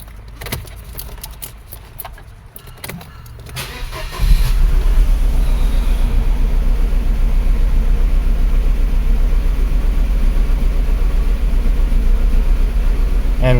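A 1995 Mercedes 210 in extremely rich running condition: after a few seconds of quiet rattling, the engine catches and settles into a loud, steady idle that continues alone to the end.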